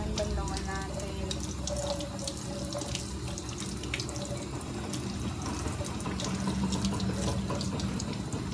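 Tap water running steadily into a sink while bleaching soap is rinsed off skin, a continuous close splashing rush with no break from start to finish.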